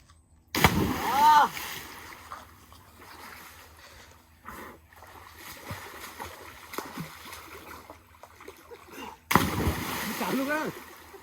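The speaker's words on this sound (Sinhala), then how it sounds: "මම ගැහුවොත් ඔක්කොම වතුර ටික උඩට එනවනේ" Water splashes loudly at close range as people bathe at a village swimming spot near Mahiyangana, with a hard burst at the start, softer sloshing in between and another heavy splash near the end, while people talk over it.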